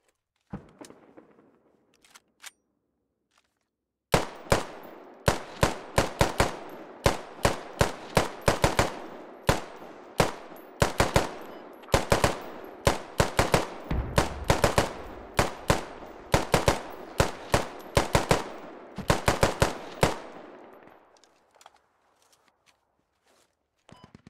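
Sustained suppressive gunfire in the video game Squad, a long stretch of sharp, evenly spaced single shots and short bursts at a steady slow rate, moderately loud and alone, fading out at the end.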